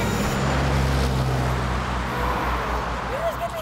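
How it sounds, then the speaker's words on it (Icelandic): A city bus arrives through street traffic with a steady low engine rumble and a broad road hiss, close and continuous; voices are faintly present under the noise. "Strætó birtist akkurat þegar við vildum taka hann"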